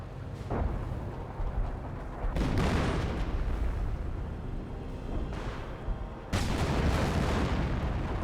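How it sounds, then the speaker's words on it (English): A Geschützwagen artillery piece fires in Company of Heroes, several heavy booming shots spaced a few seconds apart, each followed by a rumbling tail over constant low battle noise. "We do now have the Geschützwagen firing away into the carcass."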